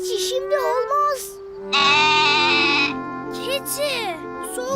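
Cartoon goat bleating loudly and nearby in a long wavering cry, set between stretches of animated character voices and light music in a children's show.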